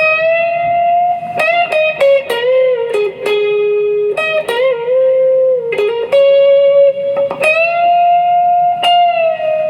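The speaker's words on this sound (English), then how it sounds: "Measure 47 has the guitar solo played by Guitar3 using a pick." Electric guitar solo picked with a plectrum from a live arrangement: sustained bent notes and quick picked runs with distortion and reverb, played continuously and clearly with no voices.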